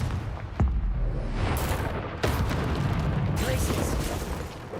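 Explosive Confringo spell bursts in Hogwarts Legacy, a sharp blast near the start and another about two seconds in, over dense, loud game combat noise and rumble.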